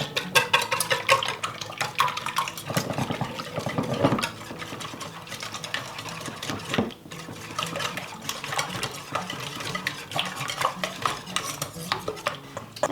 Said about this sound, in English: two tablespoons of melted butter, we're going to whisk these together